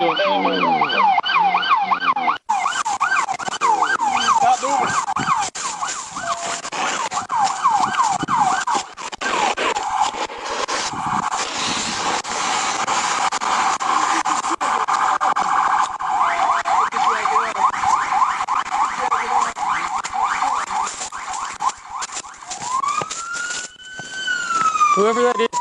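Police car siren wailing continuously and loudly during a dashcam-recorded high-speed chase, cycling through rapid yelp and wail patterns with engine and road noise underneath.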